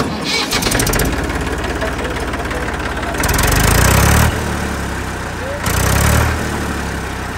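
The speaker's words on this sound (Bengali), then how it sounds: "এই গাড়িটার ইঞ্জিন সাউন্ড কিন্তু একেবারে ঠিক আছে" A car engine cranks and catches, then settles into a loud, steady idle close by, with revving swells partway through.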